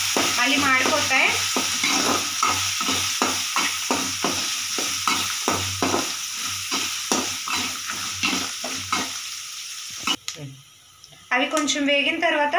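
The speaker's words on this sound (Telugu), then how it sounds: "పల్లీలు, జీడిపప్పు కొంచెం వేగనివ్వాలండి. ఇవన్నీ వేసి మీడియం ఫ్లేమ్లోనే చేసుకోవాలండి." Peanuts and cashews frying in oil on a medium flame, a loud, continuous close sizzle with rhythmic scraping stirs, while someone talks over it at the start and again near the end.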